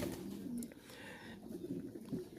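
Lahori pigeons, a flock of about eighteen in two colours, coo in low repeated rolling phrases close by, overlapping steadily with faint rustling and no talk.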